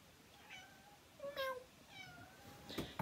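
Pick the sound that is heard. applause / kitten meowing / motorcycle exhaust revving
kitten meowing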